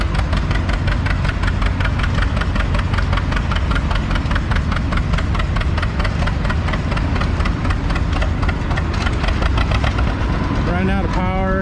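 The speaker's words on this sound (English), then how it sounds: "The John Deere G is still coming our way." Vintage John Deere G tractor engine pulling hard at a tractor pull, a loud, rapid knocking chug that runs steadily, with a voice talking over it near the end.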